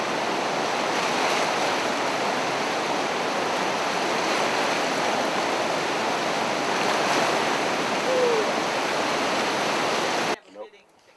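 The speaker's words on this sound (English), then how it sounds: "you got eight, like, class eight rapids right behind you" Roaring river rapids, billed as class eight, make a dense, continuous rush of whitewater close by. It holds at a steady loud level, then cuts off abruptly near the end.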